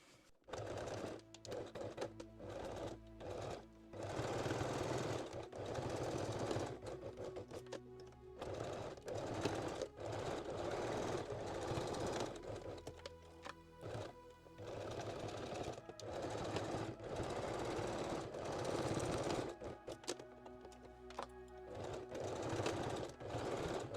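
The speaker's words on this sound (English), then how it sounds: "Now I stitch the channels in a place using a straight stitch." A sewing machine runs a straight stitch along the channels of a handmade bikini top, a close, steady mechanical whirr in long runs with short breaks between them, and nobody speaks.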